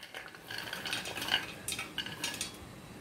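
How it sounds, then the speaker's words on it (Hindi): Two spoons mix sabudana pulao ingredients in a pot, making faint scraping and light clinking sounds at an uneven pace, close by and quiet. "और इन सबको हमें 2 चम्मचों की सहायता से मिला देना है इस टाइप से।"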